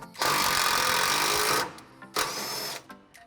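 A power tool drives a bolt into a 3/8 hole while an open-end wrench holds it, during leaf spring installation on a 1962 Lincoln Continental. Two loud, close whirring runs are heard, a long one followed by a shorter one.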